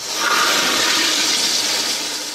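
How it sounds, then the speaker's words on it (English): A high-pressure prison toilet flushes with a loud, forceful whoosh of rushing water that holds steady for a couple of seconds, close up and with no talking over it. "I don't care what it is you put in that shit, it's gonna flush."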